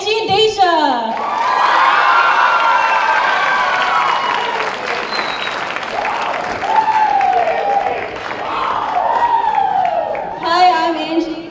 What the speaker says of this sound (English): let's get a big round of applause for Angie and Deja